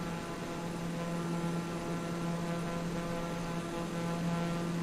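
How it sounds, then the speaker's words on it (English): A propeller plane's engine drones steadily inside the cabin in flight, a constant tonal hum with no break and no talk over it. "Yeah, believe it or not, Aiden, this plane is actually pretty fast."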